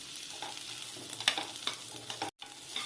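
Sweet corn frying in butter in a pan at home, a continuous close sizzle with scattered crackles and a few stirring scrapes, then a brief break near the end.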